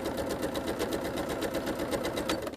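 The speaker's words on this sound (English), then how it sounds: "Once I get these sewn together," A sewing machine stitches quilt triangles together, a close, rapid and even mechanical chatter with a steady motor hum running unbroken throughout.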